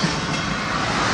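A CSX freight train passes close by, a steady, loud broadband rumble and rattle of rolling cars that holds evenly through the whole moment with no voices over it.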